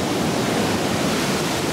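Constant broadband rush of a waterfall in Iceland, a dense roar with no voices over it.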